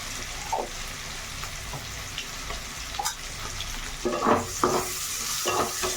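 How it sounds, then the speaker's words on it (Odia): Potatoes coated with turmeric fry in a pan, giving a continuous crackling sizzle broken by several scraping stirs of a spatula, close up and without any talking. "ଅଣ୍ଡା ଭଜା ହେଇଛି, ଆଳୁ ସେମିତି ଭାଜିବା।"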